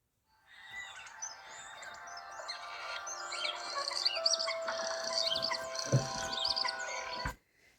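A songbird, a starling returning in spring, sings a long, varied run of chirps and warbling phrases, fairly faint, with a sharp knock near the end before it stops.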